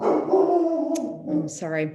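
A dog barks and yips in short bursts at a distance, partly under a nearby voice speaking briefly.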